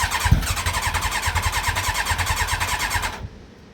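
A Yamaha YZF Thunderace motorcycle under restoration cranks and fires into a rapid, pulsing engine beat for about three seconds before cutting off abruptly, loud and close.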